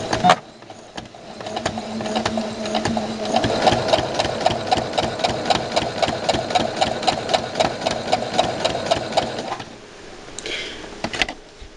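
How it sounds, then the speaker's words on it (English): A sewing machine runs a quick seam on fabric for a baby bow tie, a fast, even mechanical clatter lasting around eight seconds, starting and stopping crisply with a few stray clicks around it. "So I'm just going to take it and toss it under my sewing machine and quickly just give it a stitch."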